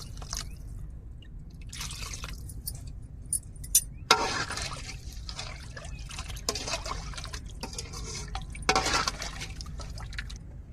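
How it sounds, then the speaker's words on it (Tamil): Water is poured into a pan of mottai fish curry, producing several separate splashing pours and trickles with quieter pauses between them, all close by and with no talking. "இப்போ நம்மளுக்கு குழம்புக்கு தேவையான தண்ணி சேர்த்துக்கிடுவோம்"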